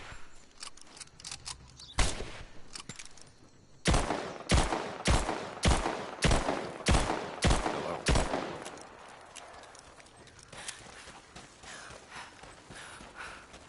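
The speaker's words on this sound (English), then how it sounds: "What are you firing at?" Gunfire in the video game Rise of the Tomb Raider, a short shot followed by a rapid rhythmic burst of about eight loud, evenly spaced shots, then a fading echo and quiet ambience.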